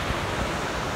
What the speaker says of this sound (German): Wir sind hier am voluminösesten Wasserfall Islands